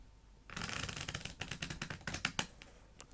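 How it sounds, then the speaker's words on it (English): Rapid, fluttering riffle of playing cards being shuffled close by, a quick burst of crisp flicks and snaps. "I will shuffle the cards together"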